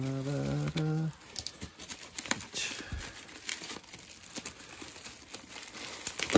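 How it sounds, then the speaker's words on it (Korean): Scissors snip and crinkle through bubble wrap around a boxed MG Red Frame Flight Pack model kit, with close, quiet rustling crackles after a brief spoken phrase. "뜯기가 힘들어서 가위로 자르겠습니다."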